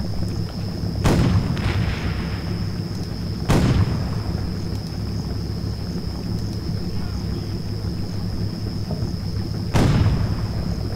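Tank gun rounds from a T-34 in the Combat Mission Red Thunder war game fire as three loud booming blasts, widely spaced, each with a rumbling decay, over a steady wind-like background hum.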